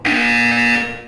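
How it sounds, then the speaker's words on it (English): A buzzer from the Portal 2 video game sounds once, a loud sustained electronic tone with a steady pitch lasting about a second, alone with no talk. "When you hear the buzzer, look up at the ceiling."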